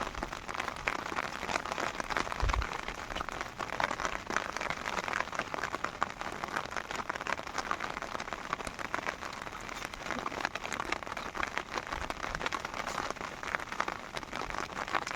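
Continuous rain pattering on a surface, an even, close hiss of many drops lasting throughout with no voices.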